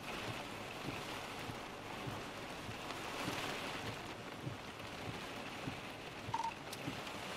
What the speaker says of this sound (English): the rain is being drawn in from southeast to northwest still